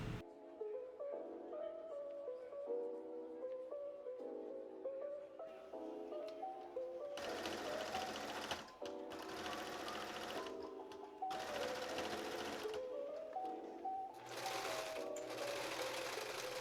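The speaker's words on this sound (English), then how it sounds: "and then we can sew all across that edge." A sewing machine stitches along the edge of a lace wedding dress in four steady, fairly loud bursts, each a few seconds long with short pauses between, following a stretch of quiet tonal background sound.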